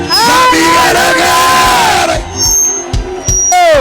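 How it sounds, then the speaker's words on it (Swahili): A church congregation at an ordination service cheers and ululates loudly and close, with high wavering trills and shouts over a continuous crowd roar, then sharper bursts of whoops and yells toward the end. "Wapi shangwe na vigere?"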